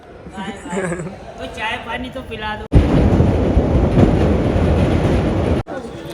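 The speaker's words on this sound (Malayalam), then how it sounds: "നമ്മളിപ്പോൾ ഉള്ളത് കത്വ റെയിൽവേ സ്റ്റേഷനിലാണ്." A train at Kathua railway station in Jammu and Kashmir: after a few seconds of talk, a loud, steady rumble of rolling rail cars swells in close by and holds for about three seconds before cutting off.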